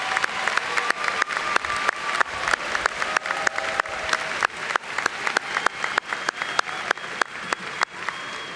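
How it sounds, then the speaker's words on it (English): A graduation audience claps in a steady round of applause at a CVCC commencement ceremony, dense overlapping hand claps filling the hall, moderately loud, with faint voices murmuring underneath. "joining me in a hearty round of applause"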